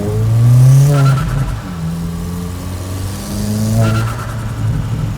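A big-turbo VW Scirocco 1.4 TSI engine revs hard twice, each sweep climbing loudly and then dropping back to a rough idle, heard up close from the car.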